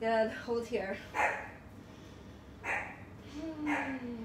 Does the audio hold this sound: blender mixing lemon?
no